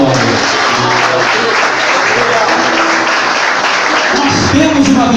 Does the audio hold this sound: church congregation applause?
yes